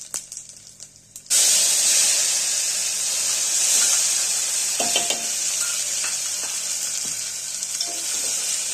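Mustard seeds, cumin, curry leaves and ground masala hit hot oil with a sudden loud hiss for a Maharashtrian katachi amti tempering, then keep up a steady crackling sizzle with scattered pops close by.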